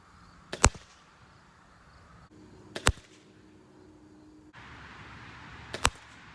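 A Barnett crossbow fired outdoors: three sharp, loud snaps spaced a few seconds apart, each a sudden crack that dies away quickly, with quiet background between them.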